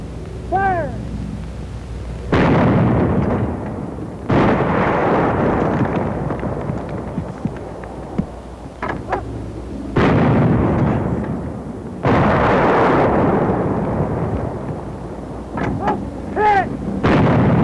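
Infantry weapons firing on a hill target during army training, heavy booming blasts in several long bursts with rolling echoes between shots, loud and close.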